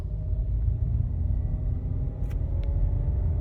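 Deep, steady engine rumble from a Skoda Kushaq accelerating at full throttle, heard from inside the car with a constant low drone and a couple of faint high ticks near the end.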